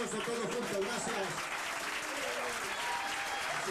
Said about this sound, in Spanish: Aplausos todos juntos.